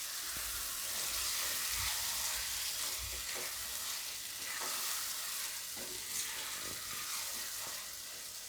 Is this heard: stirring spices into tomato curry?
yes